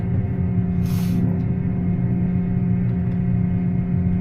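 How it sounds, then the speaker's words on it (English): A John Deere S680 combine's engine runs steadily at close range, a loud continuous rumble with a constant low drone and no talk. "Firing up the S680, moving it out of the way, the combine."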